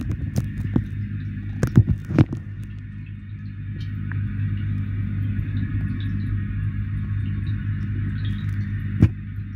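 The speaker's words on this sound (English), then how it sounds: "I'll get this vacuum out." A koi pond vacuum runs with a steady low hum and throbbing rumble, joined by a few brief knocks and clunks early on and another near the end.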